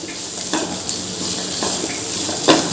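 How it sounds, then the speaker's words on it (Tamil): Sliced large onions sauté in butter in a pan for butter chicken masala, with a steady close hiss of sizzling broken by occasional scrapes and taps of a spatula stirring. "வெங்காயத்தை நல்லா வதக்கிக்கலாம்."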